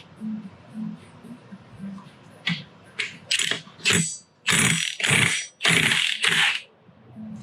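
A power tool loosens the 21mm variator screws on a 2023 Piaggio Beverly 400cc scooter, giving loud close bursts of mechanical hammering and whirring, several in a row, after a few quieter clicks.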